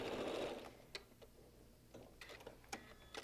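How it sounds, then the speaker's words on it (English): A sewing machine stitches seams on triangle quilt pieces for a dinosaur-themed quilt, a brief run of fairly loud mechanical whirring at the start, then a few faint ticks and clicks as it stops and restarts. "I start and stop just a little bit at the beginning and end of each seam"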